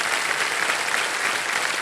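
Studio audience at a TV quiz show breaking into steady applause, an even, continuous burst of many hands clapping at moderate loudness, brief and uninterrupted, with no voices on top.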